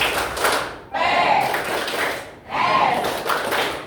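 A standing class in Indonesia performs the rhythmic group clap chant "Tepuk IPS", with bursts of claps alternating with voices calling out in unison, in two repeated rounds.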